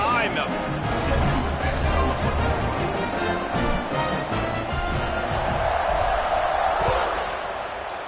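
In an American football video game, the stadium crowd roars as the teams line up for the kickoff. The dense cheering holds steady throughout the clip, with a commentator's voice running over it.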